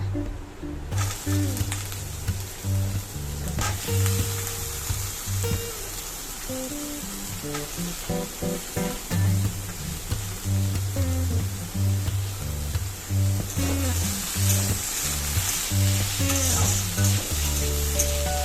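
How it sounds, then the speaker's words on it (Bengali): Steady sizzling of carrots and onions frying in a hot pan, with occasional stirring scrapes and clinks, loud and close throughout. "না চলো এটা ভাজা হতে দেয় না"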